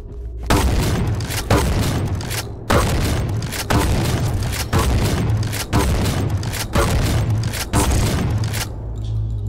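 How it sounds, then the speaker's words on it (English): A shotgun fires in Quake Champions: about nine heavy, booming blasts in a fairly regular rhythm roughly one second apart, loud and close, with no talk. "Ladies and gentlemen, the shotgun,"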